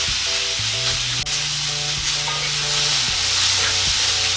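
Sinigang with dandelion greens and tomatoes being stirred in a pot, a steady sizzle and simmer with scraping spoon strokes and a sharp clink partway through, close and continuous with no talking.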